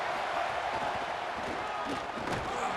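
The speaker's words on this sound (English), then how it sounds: "This crowd bringing the energy and noise early." Crowd noise in a football stadium during an American football game, a dense, continuous roar of many voices filling the space throughout.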